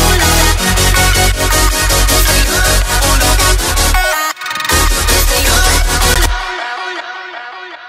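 Heavy future bass drums playing without EQ, loud and dense with a boomy, muddy low end under punchy hits, a brief dropout midway, then a thinner, fading tail.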